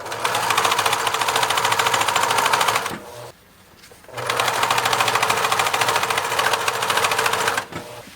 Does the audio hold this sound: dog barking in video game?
no